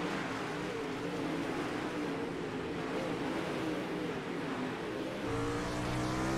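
Race motorcycles in an ESRA Pro Series race at Indianapolis raceway accelerate back to green-flag speed, a loud continuous engine drone with rising pitch that climbs sharply near the end, no voices.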